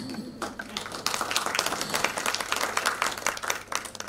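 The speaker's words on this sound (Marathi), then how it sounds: "टाळी." An audience applauds at a Marathi devotional song concert, sustained clapping from many hands filling the space at moderate volume with no voices over it.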